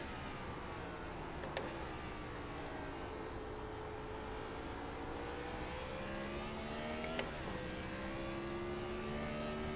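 Race car engines in a Gen 4 stock car racing video game at Martinsville drone steadily, with engine pitch rising and falling as cars work around the short track, continuous and moderately loud.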